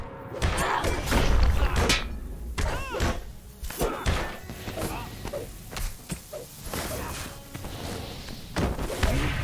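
Fireworks going off in the LOTRO (Lord of the Rings Online) game landscape: a busy string of thuds, bursts and crackling pops with whooshing sweeps, irregularly spaced across the whole stretch at steady moderate loudness.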